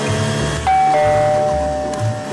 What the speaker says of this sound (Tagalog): Biglang, ting-tong! Malakas na tumunog ang doorbell sa harap ng bahay.